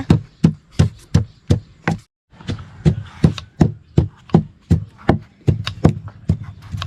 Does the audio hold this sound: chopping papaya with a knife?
yes